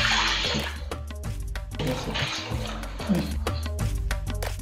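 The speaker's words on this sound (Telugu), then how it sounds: "ఇప్పుడు అదే ప్యాన్లో 3 కప్పుల నీళ్లను పోస్తున్నాను" Three cups of water pour steadily into a pan for rava kesari, a continuous splashing rush, close and fairly loud, with a low hum running underneath.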